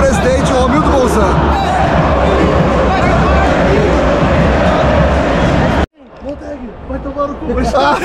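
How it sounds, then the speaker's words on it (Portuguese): Grêmio football supporters in a stadium crowd roar and chant loudly and continuously, a dense wall of massed voices that cuts out abruptly, then swells back up after a brief lull. "E a recado da torcida do Grêmio pro presidente Romildo Bolzan."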